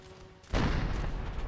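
Cannon fire in the video game Napoleon: Total War: a single heavy boom bursts in suddenly after a quiet moment, followed by a lingering rumbling roar that stays loud to the end.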